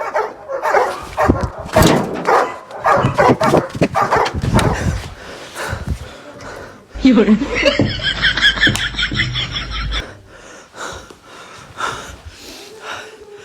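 A dog near farm fields in the evening barks, wheezes and snorts close to the microphone in loud, irregular bursts, with a brief whimper and a quieter stretch at the end.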